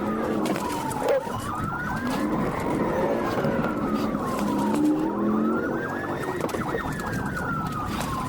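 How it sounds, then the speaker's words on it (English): Police car siren wailing continuously during a dashcam pursuit, its rising and falling sweeps loud and steady throughout amid road and engine noise, with no talk. "As soon as the trooper activated lights and sirens, the suspect floored it"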